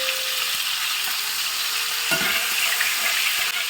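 Marinated fish shallow frying in hot oil hisses loudly and constantly up close, with a few light taps and crackles scattered through the bright sizzle.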